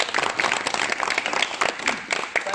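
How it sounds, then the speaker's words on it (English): Dense, continuous clapping from an audience at a gathering in Thailand, loud and close, sustained at an even level with faint voices mixed in. "And finally, a big clap for everybody that took part."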